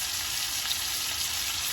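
Chicken piccata sizzles and fries steadily in a pan, a dense, even crackle close up that holds at the same level throughout with no voices.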